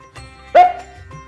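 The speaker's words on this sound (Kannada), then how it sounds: "ಈ ನಾಯಿ" A guard dog at a house gives a single short bark, close and fairly loud, against a quiet background with a faint steady tone.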